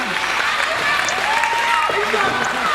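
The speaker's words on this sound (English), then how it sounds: "The crowd is cheering for him." A crowd cheers at an APCW independent wrestling main event, Darkmon vs Damien Bennett, a steady, dense roar of voices throughout with a raised voice rising above it.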